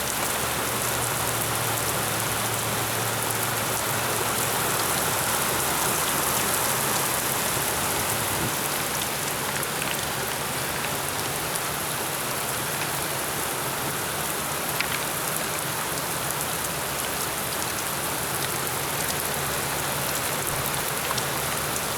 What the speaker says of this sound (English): this is the most intense as far as volume of rain coming down.